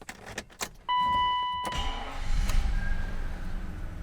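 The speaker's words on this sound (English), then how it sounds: "Cold start is pretty decent." A V12 BMW E32 750iL, off the road for about six years, cold-starts: soft chime tones, a short crank, then the big engine catches and settles into a steady, loud idle.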